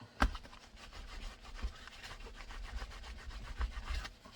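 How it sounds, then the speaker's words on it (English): An HK45 pistol's Safariland fork holster is scrubbed with cleaning oil, giving a steady, close rasping rub with a few sharp knocks, alone without talk. "Give it a nice scrubbing."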